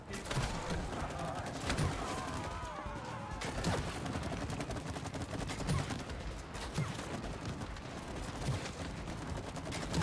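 Gunfire in a video game crackles in dense, rapid bursts for ten seconds, with sharp impacts and crashes scattered through the steady barrage, close and loud.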